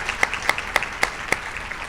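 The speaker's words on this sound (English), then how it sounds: "How about a nice round of applause for our retired faculty?" Steady applause from an audience at a university State of the Campus address honors retired faculty, a dense wash of clapping with a few sharper individual claps standing out.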